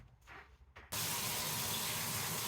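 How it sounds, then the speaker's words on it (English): A tap is switched on partway through and water then gushes steadily and loudly to shower houseplants, a dense constant rush after a quieter start. "So we are going to turn on the water and get started."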